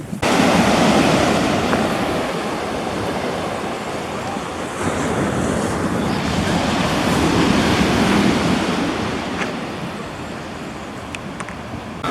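Ocean waves breaking on a California beach, in a steady loud roar of surf with swells rising and falling, buffeted by wind noise on the microphone.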